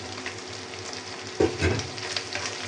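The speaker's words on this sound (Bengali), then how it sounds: "এই টমেটো কাটা 2টা দিয়ে দেবো।" Chopped tomatoes frying with onion and eggs in a pan for vegetable noodles, a steady close sizzle with a sudden louder hiss and brief stirring scrape as the tomatoes hit the oil.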